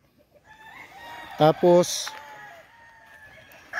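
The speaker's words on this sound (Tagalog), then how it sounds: "Ito yung mga manok, mga broodcock at broodstag nandito." Gamefowl roosters, broodcocks and broodstags on a breeding farm crow in a short close burst partway through, over a low yard murmur with someone talking.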